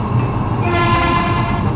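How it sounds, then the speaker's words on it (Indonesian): A Russian train sounds its horn loudly and steadily at close range, one sustained blast over the rumble of the rolling train. "Coba kita dengarkan untuk suara klaksonnya ya"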